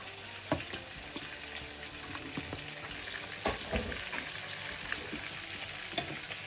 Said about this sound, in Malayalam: ഇനി ബാക്കിയുള്ള ചിക്കനും നമുക്ക് ഇതുപോലെ തന്നെ വറുത്തെടുക്കാം